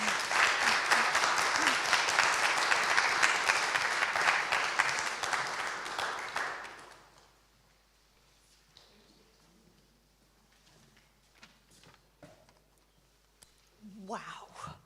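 An audience at a poetry livestream at the National Centre for Early Music claps loudly for about seven seconds after a performance, then the applause stops abruptly, leaving quiet room noise and a few faint sounds.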